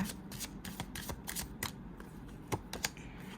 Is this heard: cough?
no